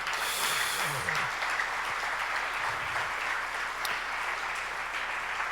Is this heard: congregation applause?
yes